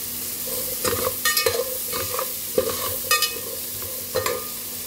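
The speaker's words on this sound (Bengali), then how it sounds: "হলুদ দেবো অল্প, দিয়ে এটা সামান্য নেড়ে নেব।" A spoon stirs dalia with turmeric in a hot pan, scraping and clacking in several separate bursts over a low sizzle, close, with no talking.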